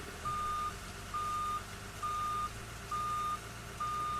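A truck's reversing alarm sounds outdoors, five evenly spaced electronic beeps repeating about once a second over a low engine rumble and background hum, clear and steady with no talking.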